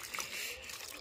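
Water trickles and splashes steadily in a farm field, a continuous close running flow with a faint voice in the background.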